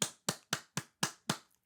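Six sharp hand claps ring out in an even, quick rhythm, close and crisp, each one decaying quickly into silence, with no voices around them.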